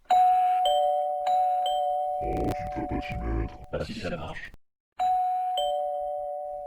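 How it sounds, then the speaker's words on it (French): A doorbell chime rings out with clear ringing tones at the start, then again near the end, with people speaking in French in between. "C'est bien ici, la sonnette?"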